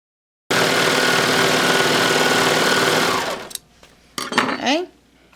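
A serger sewing machine stitches an infinity scarf, running loudly and steadily for about three seconds before stopping, then a few handling noises and brief voice-like sounds follow.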